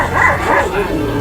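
A dog set on a young man bites his hands and legs, giving a short, loud yelping bark that trails into a whimper, mixed with a human voice.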